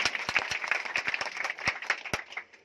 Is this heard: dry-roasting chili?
no